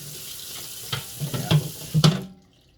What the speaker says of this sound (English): Doing the dishes